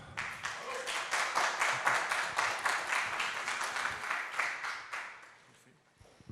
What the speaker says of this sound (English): je vais laisser la parole à Arnold, que je vous demande d'applaudir